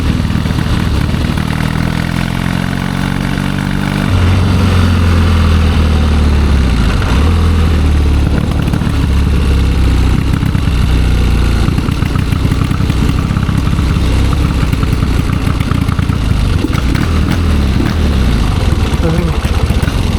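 A 1972 Triumph 650 Bonneville twin runs loud and close throughout, its idle rising and dropping in pitch as the throttle is worked, with a rich, rough, uneven note.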